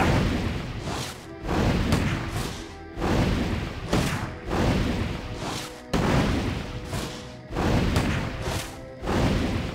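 Repeated heavy booms of weapon fire in Warcraft III Reforged, a steady barrage of loud thuds and crashes arriving roughly every second with no gaps of quiet between volleys.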